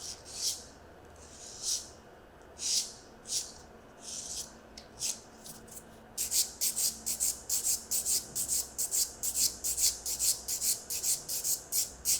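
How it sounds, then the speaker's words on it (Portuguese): A nail file rasps along the contour of an acrylic nail during a deep French reverse set. Slow separate strokes come first, then a fast steady back-and-forth filing rhythm, close and clear with no talk. "Acabo por finalizar com a lima por cima para conseguir criar mesmo uma linha em todo o contorno"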